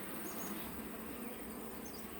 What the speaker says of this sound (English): That frame's covered in bees.